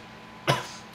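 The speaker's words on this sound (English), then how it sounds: "A cough." A single short cough, close and fairly loud, standing alone with no talking around it.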